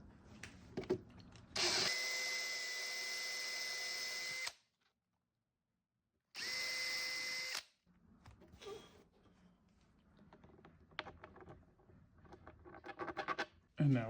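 A power drill bores pilot holes in a formed plastic headlight lens cover, giving two steady whining bursts of about three seconds each, separated by silence, with light handling clicks and scrapes between and after.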